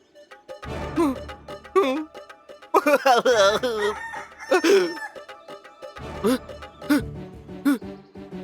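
A rooster crows and clucks in repeated bursts close by, several loud calls separated by short pauses, mixed with voices in a dramatic scene.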